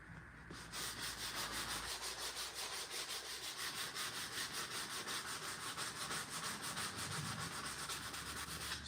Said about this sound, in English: get in here with the, just my hand and kind of sand those down a little as well